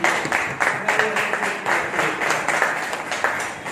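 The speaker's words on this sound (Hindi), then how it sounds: "मैं चाहूँगा नए मेहमानों के लिए एक जोरदार ताली बजाएंगे" A gathered audience claps to welcome new guests, a dense, steady round of applause with rhythmic pulses running through the whole few seconds, moderately loud and without talk.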